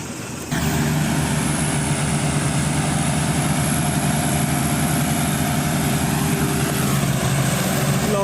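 A tractor engine labours at a steady high load while trying to pull a trolley stuck in a muddy paddy field, loud and close, with a constant drone and no talk over it.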